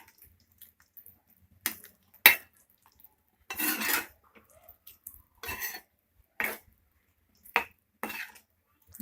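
A spoon scrapes and knocks against a pan while stirring soya chunk gravy, coming in short, irregular clinking bursts with quiet gaps between them, close up and with no talking.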